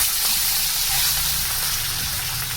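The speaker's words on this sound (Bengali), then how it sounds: "মাছটাকে ভেজে নেব। মাছ দিয়ে দিচ্ছি, মাছটা একটু ফাটে" Pieces of fish dropped into hot oil in a kadai, producing a loud, dense, continuous sizzle close up with little change across the short stretch.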